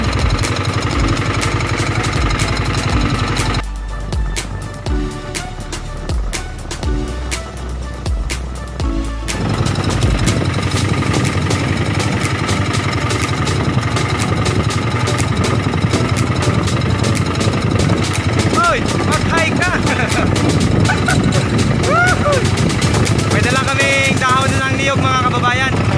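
Engine of a Philippine fishing boat running steadily after being repaired, a continuous loud droning hum that drops briefly midway and then resumes with a rougher, fuller tone.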